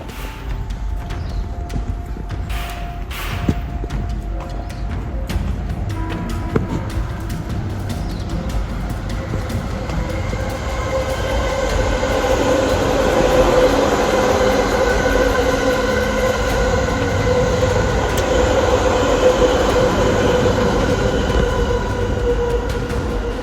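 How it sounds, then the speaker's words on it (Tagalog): A train arrives at a station in Japan, its rumble building steadily from moderate to loud. Rail clatter and a sustained wheel squeal or hum continue, with a few sharp clicks early on. "Parating na yung tren."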